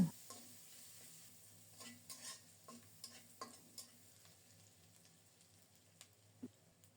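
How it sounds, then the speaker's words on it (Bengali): Chopped onions sizzle in hot oil, frying until reddish, for a thin Bengali topse fish curry with pointed gourd, a steady frying hiss broken by repeated scraping stirs at irregular intervals, close and fairly quiet with no talking. "এই তেলেই দিলাম এক মুঠো কুচানো পেঁয়াজ নেড়ে চেড়ে পেঁয়াজটাকে লালচে করে ভেজে নেব"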